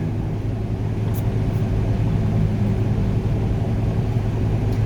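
A vehicle towing campers and trailers passes on a desert interstate highway, a loud, steady close rumble of road and engine noise with no talking.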